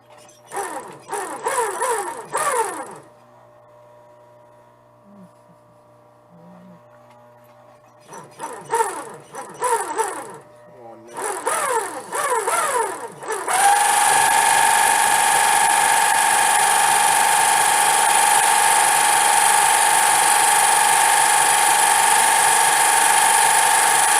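A sewing machine stitches a leather tennis bag in rapid bursts of clattering strokes separated by pauses, then gives way to a steady, loud high-pitched motor whine that runs continuously to the end.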